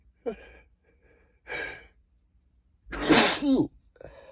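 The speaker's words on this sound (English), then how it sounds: "I'm gonna sneeze." A man's stifled, muffled sneezes come in short bursts with sharp breaths in between, one harsher and louder sneeze landing near the end, close and alone.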